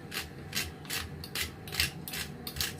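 Black pepper ground in a hand pepper mill, a run of rhythmic gritty rasping crunches repeating about every half second, close and fairly quiet, with no talk.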